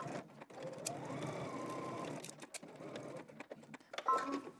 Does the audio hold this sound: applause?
no